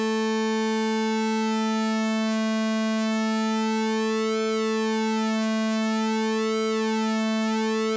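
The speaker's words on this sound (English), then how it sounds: "right, so you see those sine waves changing." Pure sine-wave tones morphing in a Serum wavetable synthesizer, a steady stack of clean harmonic partials with a slowly shifting, sweeping character, loud and sustained throughout with no voices.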